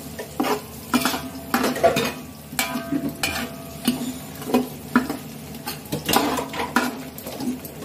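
Cumin seeds stir-fried with spices in a pan, a spoon scraping and clinking against the metal in repeated quick strokes over a faint sizzle, close and fairly loud, with no talking.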